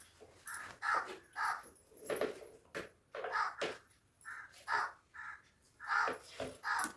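Crow cawing nearby in repeated harsh calls, some single and some in quick pairs, spaced through the stretch with brief gaps and faint background between them.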